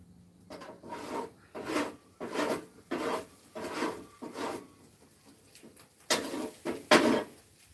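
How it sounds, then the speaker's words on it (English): A metal scraper rasps across a flat cooking plate before bacon is fried, in a series of about eight rhythmic, close scraping strokes with brief pauses between them. "Now, give this plate a scrape."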